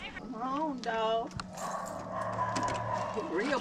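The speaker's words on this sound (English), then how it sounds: "Come on, dog." A dog yips and whimpers in a few short, high, wavering cries close by, with a steady low rumble and some clatter beneath.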